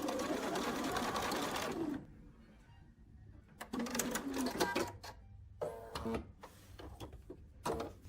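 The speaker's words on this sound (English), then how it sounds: "And we're going to sew up the other side." A sewing machine stitches a quilt fabric seam in a rapid, steady mechanical whir for about two seconds, then follows with several shorter bursts of stitching separated by brief pauses, close and fairly quiet.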